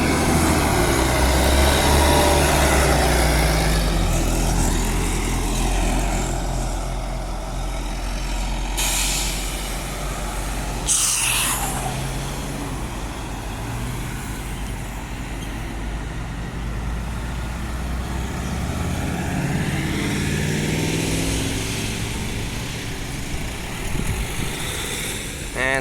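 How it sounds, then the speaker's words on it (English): A city airport-line bus pulls away with a loud diesel engine rumble that builds and drones steadily, broken by a sharp air-brake hiss partway through, with passing traffic and occasional voices around it. "Engine noises"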